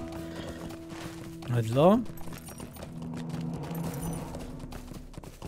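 Horse hooves clip-clop in the Lord of the Rings Online game, a short run of steps with a rising whinny-like sweep, while someone talks over them.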